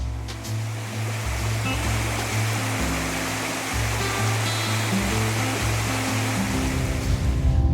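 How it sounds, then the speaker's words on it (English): Hungarian Falls on the Keweenaw Peninsula, a series of waterfalls along a rustic trail, roars as a dense, steady wash of falling water, loud and continuous with no voices, and faint low rhythmic tones underneath. "these must-see year-round Hungarian Falls, which feature 3 beautiful waterfalls along a rustic trail"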